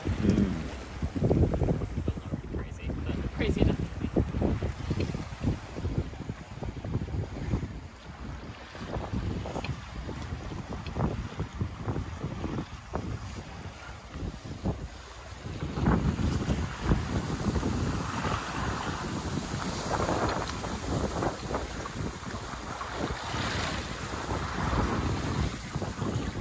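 A Shrimper 19 sailboat under way in wind and waves: steady rushing wind buffeting the microphone over sloshing water against the hull, continuous and close throughout.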